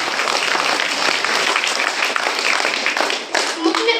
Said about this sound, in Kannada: ನೆರೆದಿರುವ ಎಲ್ಲ ಕನ್ನಡಾಭಿಮಾನಿಗಳು ಜೋರಾಗಿ ಚಪ್ಪಾಳೆಯನ್ನು ತಟ್ಟುವುದರ ಮೂಲಕ ಇವರನ್ನು ಅಭಿನಂದಿಸೋಣ